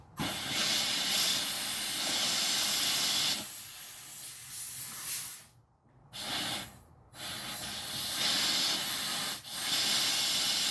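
Compressed air blasts loudly through the clogged drain of a BMW X3 to clear a passenger-side water leak, a steady roaring hiss broken by a few brief pauses between bursts.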